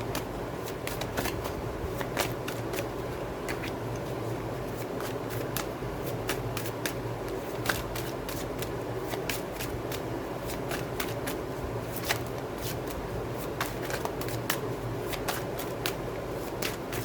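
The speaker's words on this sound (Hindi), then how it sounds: "कार्ड शफलिंग में थोड़ा टाइम लगता है" Tarot cards are shuffled close up in a long series of crisp riffling flutters and taps at an irregular rhythm, over a soft steady background hum.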